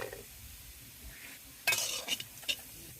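Onion and garlic are added to greens on a clay stove, with a faint low sizzle followed by a few sharp stirring scrapes and utensil clatters near the end.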